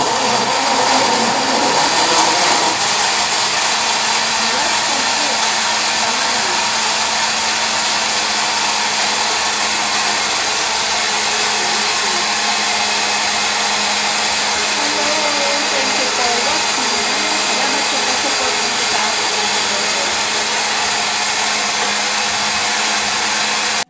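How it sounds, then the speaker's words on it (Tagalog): A blender whirs steadily through a smoothie of carrot juice, apple and orange, a loud, continuous high-pitched motor drone lasting over twenty seconds without pause. "So ngayon, i-blend na po natin siya."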